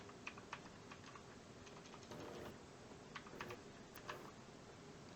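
Keys clatter on a computer keyboard as a Linux command is typed in a quiet room, a series of light quick taps followed by a firmer keystroke for Enter, all faint and close.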